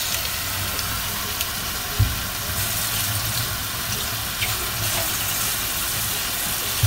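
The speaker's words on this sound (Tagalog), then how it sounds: "Lagyan po natin ng konting tubig." Steady stream of water running and splashing into a pan, constant and fairly close, with a faint clunk partway through.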